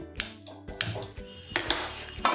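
A metal pot set down on a lit gas stove in a home kitchen while cooking veg fried rice, making a few close clanks and scrapes of cookware against the burner grate, with no talk.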